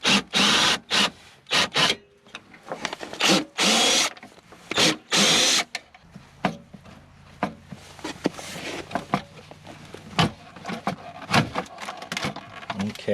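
Handheld screw gun with a 90-degree elbow extension backing screws out of a circuit board plate inside a 2018 Hot Springs hot tub, a series of short, loud whirring bursts followed by scraping and rustling as a person talks.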